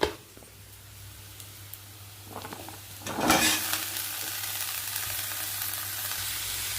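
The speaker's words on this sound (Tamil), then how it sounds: "நம்ம சுரக்காய் இதை ஆட் பண்ண போகிறோம்" Bottle gourd pieces hit hot oil with ginger and garlic in a pan, a sudden stir around the third second, then a steady bright sizzle of frying over a low hum.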